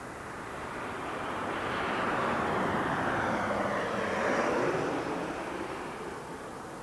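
An Alaska Airlines plane passes overhead on approach to Harry Reid International Airport in Las Vegas, its broad jet roar swelling and then fading over several seconds with no talk.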